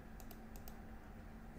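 Quick mouse clicks on a cigarette item in a point-and-click horror game, The Visitors: four faint, sharp ticks in close succession over a low steady hum, with no talk.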